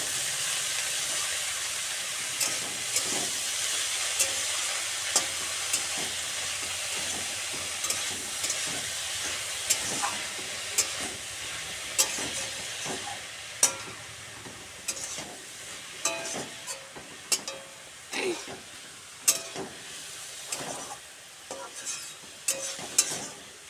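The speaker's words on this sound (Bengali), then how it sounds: "এবার নেড়ে চেড়ে নেব" Pea leaf curry with turmeric being stirred in a sizzling pan, a steady frying hiss under repeated scraping strokes of a spatula that grow sharper and more frequent toward the end.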